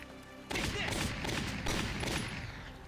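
A sudden burst of rifle and machine-gun fire erupts in Valkyria Chronicles after a half-second lull, loud and sustained with rapid overlapping reports that keep rolling to the end.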